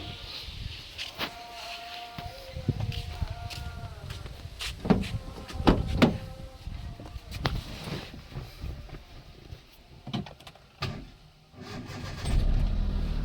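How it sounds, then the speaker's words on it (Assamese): A used Hyundai Eon D-Lite hatchback at a second-hand car market in Jorhat, Assam, cranks and starts up. Engine noise rises and falls over several seconds with clicks and knocks, then settles into a louder steady run near the end. "চাওক গাড়ী কি ধুনীয়াকৈ ষ্টাৰ্ট লৈছে।"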